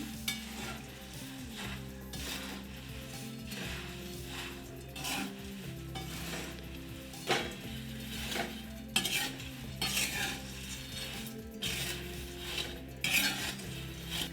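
Bajra murmura chivda, a puffed millet snack, being stirred with powdered sugar in a pan: continuous dry scraping and rustling with repeated clinks of a spoon against the vessel, close and steady throughout, with no talking.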